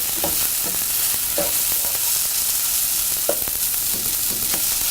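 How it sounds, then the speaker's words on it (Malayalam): Garlic, green chilies and curry leaves sizzle steadily in a hot pan while being sautéed for a shrimp masala, with a spoon scraping and stirring through them in repeated strokes close by. "വെളുത്തുള്ളി, പച്ചമുളക്, കറിവേപ്പില എന്നിവയിട്ട് നന്നായിട്ട് വഴറ്റുക."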